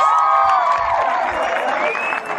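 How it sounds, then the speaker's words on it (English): An audience at a school event in Eldoret applauds and cheers steadily, with raised voices and whoops carrying over the clapping throughout. "please give yourselves a round of applause"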